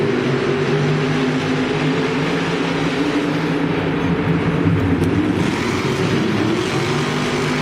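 The Gravedigger monster truck races around a Monster Jam arena in Arlington, Texas, its heavy engine droning loud and steady throughout, with a thick low roar and no voices.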